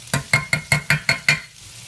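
Garlic sautéing in a pan, stirred in seven evenly spaced scraping strokes that sound close and fairly loud, ending in a quieter sizzle.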